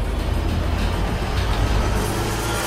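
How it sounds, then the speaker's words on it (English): The L train rumbles along its track in the Watch Dogs video game, a steady, broad mechanical roar with no distinct clacks. It stays loud and continuous throughout. "You can even use the L train to escape."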